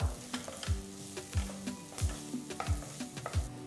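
Finely chopped onions and green chilies sautéing in a pan, light sizzle under rhythmic spatula knocks and scrapes roughly every half second, close and clear.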